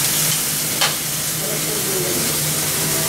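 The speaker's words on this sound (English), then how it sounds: "Sizzle them in those sauces" Hot dogs sizzle in sauce on an outdoor grill, a steady close frying hiss with a brief sharp crackle near the start and no talking over it.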